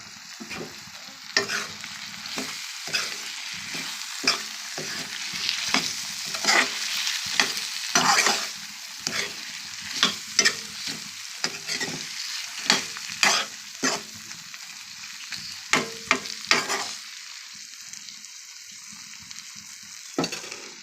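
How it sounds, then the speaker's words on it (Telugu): Curry leaves are added to ghee chicken and stirred in a pan, with a continuous hiss of frying and repeated scraping and clinking of the spoon against the metal. There is no talking. "ఇప్పుడు కరివేపాకు వేస్తాను"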